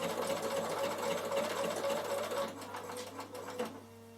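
A sewing machine runs steadily while triple stitching thick wool thread for a couched wool felt door draught stopper, its motor whirring close and continuous before slowing and stopping near the end.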